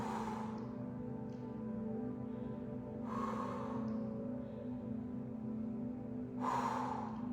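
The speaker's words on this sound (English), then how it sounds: "Deep breath in, deep breath out." Slow, deep breaths in and out during a flexibility and balance stretching routine, several long airy breaths close to the microphone against a faint steady hum, with no talking.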